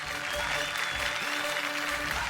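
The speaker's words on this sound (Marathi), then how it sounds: "जोरदार टाळ्या." A studio audience on a Marathi TV show claps loudly and steadily throughout, a dense continuous applause with faint music and voices underneath.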